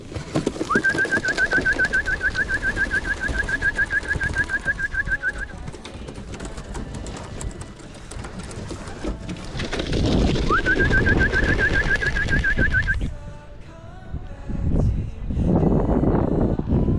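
Racing pigeons at an outdoor loft give two bouts of rapid, pulsing calls several seconds apart, over a steady rumble of wind and background noise.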